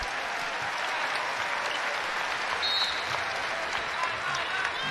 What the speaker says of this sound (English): India Rogers getting a hand from this crowd